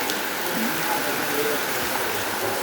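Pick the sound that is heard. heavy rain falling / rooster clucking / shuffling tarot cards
heavy rain falling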